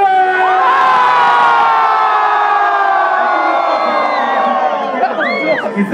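A large concert crowd at a live show in Riccione cheers and shouts loudly and continuously, with high whoops and screams rising above the roar near the end.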